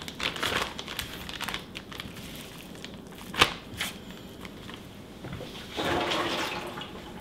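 Strips of beef jerky meat are dropped into a one-gallon plastic freezer bag, close crinkling and rustling of plastic with soft wet slaps and a sharp crackle midway.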